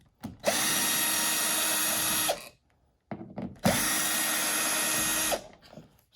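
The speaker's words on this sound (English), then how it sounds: "we start by removing these two Phillips screws, which I'm going to use the drill" A cordless power drill spins out two Phillips screws from a three-speed fan speed control switch, two sustained whirring bursts of about two seconds each, close and loud, separated by a brief pause with small handling clicks.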